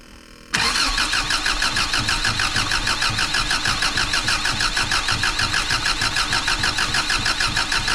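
A Subaru car engine that has sat unused for ten years cranks briefly and catches, then settles into a steady, loud, rhythmic idle close by with no voices.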